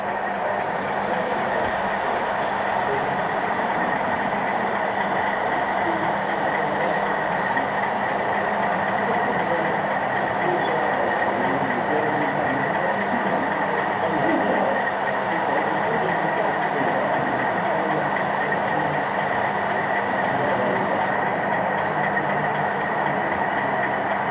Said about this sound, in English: a couple of shots of various locos from various locations running around Daisy Lane